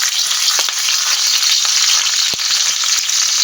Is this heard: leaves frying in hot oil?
yes